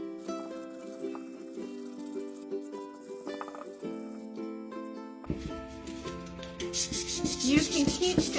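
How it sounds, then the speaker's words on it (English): Sandpaper rubs across a painted beach jar, giving a steady scratchy scraping that grows harsher and louder toward the end, with faint glassy clinks along the way. "You can keep sanding until you have your desired look."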